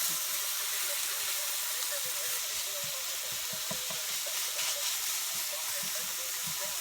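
Mushrooms and peppers fry in a pan for steak sub sandwich filling, a constant steamy hiss with soft rhythmic scraping and knocks as they are stirred.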